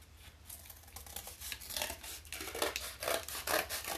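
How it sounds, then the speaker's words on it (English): Good scissors snipping through craft paper while cutting out a 3D dinosaur body, a run of close, crisp cutting strokes with light rustling. "Use some good scissors to do this."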